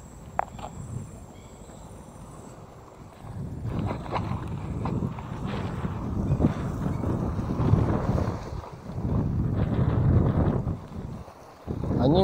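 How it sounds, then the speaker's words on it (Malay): Strong wind buffets the microphone on a small fishing boat out on the water, a steady rumbling roar that swells and gusts over about twelve seconds, with faint insect chirps in the background. "Angin kuat sikit"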